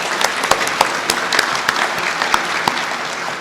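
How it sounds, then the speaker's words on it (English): Audience applause at an awards honors event, a steady crowd clapping with a few sharper individual claps standing out over the wash of hands. "Let's give them a big round of applause for doing this hard work."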